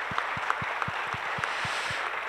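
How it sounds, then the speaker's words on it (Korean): A church congregation at a music worship service claps along in a steady, evenly spaced rhythm of about ten beats, over a soft hum of background music. "한 번 더 박수하겠습니다."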